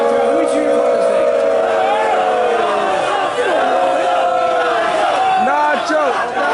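A wrestling crowd at a Galaxycon 2025 fan convention cheers and chants loudly in rising, rhythmic bursts, with voices blending into a continuous roar.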